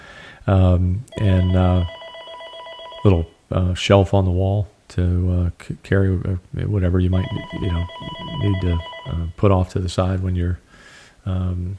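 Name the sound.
telephone ringing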